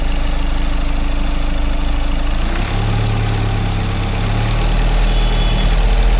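A car engine idles steadily, then is revved about halfway through to a higher, sustained drone during a MAF sensor check, loud and close with no talking.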